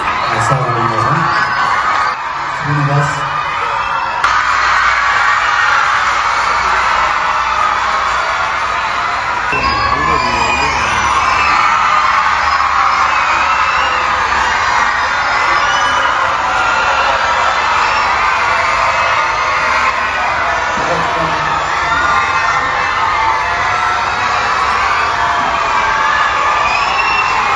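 A school crowd at a celebration event applauds and cheers loudly, sustained clapping and shouting from many children filling the space, with a voice briefly speaking over it.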